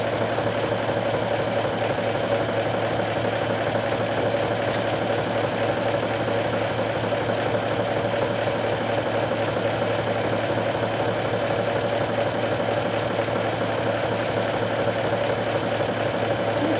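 A sewing machine runs continuously while sewing an overcasting stitch, a close, loud, even mechanical whirr with a rapid rhythmic chatter that never stops.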